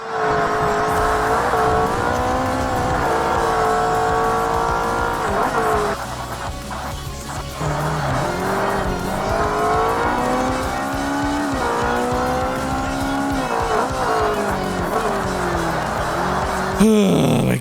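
Ferrari race car from the 2005 Forza Motorsport video game, engine roaring loud and close with rising and falling revs through gear changes, tires squealing and skidding through corners, a brief lull midway; a voice talks over it.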